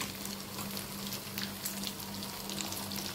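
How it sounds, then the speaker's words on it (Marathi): Beetroot cutlets shallow-fry in a pan, giving a soft, steady sizzle with fine crackle and a low hum underneath, close and unbroken. "कटलेट्स आपण फ्राय करायला टाकलेले आहेत. शॅलो फ्राय करून घ्यायचे ते."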